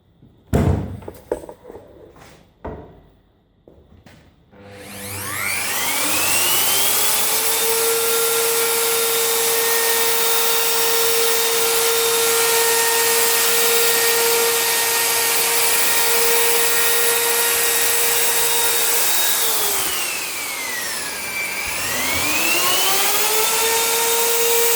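A handheld router cuts the corners of a wooden bunk bed part, a loud sustained whine that starts after a few knocks, holds steady, dips in pitch briefly near the end under load, then recovers.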